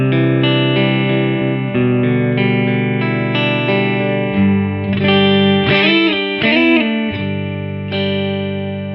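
Clean electric guitar through a Blackstar Studio 10 amp with spring reverb, playing sustained ringing chords and a few picked notes, loud and close.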